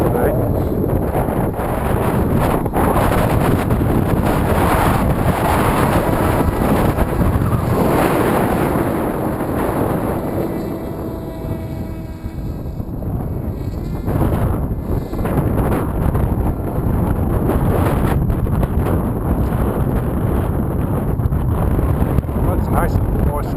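Strong wind buffets the microphone outdoors while an RC Sky Surfer glider is flown. A loud, continuous roar of gusts fills the whole span, with a faint motor whine in the middle.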